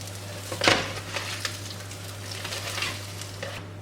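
Katmer pastry frying in a pan, a soft steady sizzle with a sharper scrape or crackle near the start and faint clinks scattered through, heard close and quiet with a low steady hum under it and no talking.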